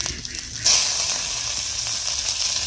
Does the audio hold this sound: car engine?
no